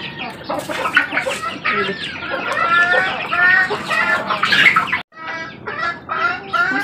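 A brooding hen on a small poultry farm clucks repeatedly and loudly at close range in busy, uneven bursts, with other chickens faintly joining in.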